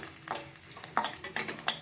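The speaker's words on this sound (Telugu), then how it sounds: "కట్ చేసి పెట్టుకున్న కొత్తిమీరను కూడా వేసుకొని వేయించుకుందాం." Chopped coriander fries in a dal-and-curry-leaf tempering for Bandar chutney, giving a soft sizzle broken by several sharp scraping stirs in the pan.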